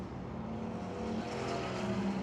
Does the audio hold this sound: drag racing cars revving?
yes